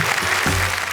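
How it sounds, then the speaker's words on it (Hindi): An audience at a comedy-poetry stage show claps for a poet in a brief, steady wash of many hands. "जरा जोरदार तालियां"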